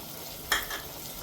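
Brief stir of spices, turmeric and masala through vegetable pulao in a pan, a single short scrape with faint sizzle underneath, no talking.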